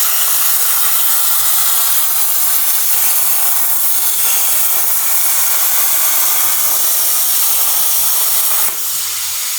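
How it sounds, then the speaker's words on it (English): Plasma cutter slicing through a metal car quarter panel, a loud, steady broadband hiss that runs unbroken for nearly ten seconds, close and with no talking. "I love that plasma cutter"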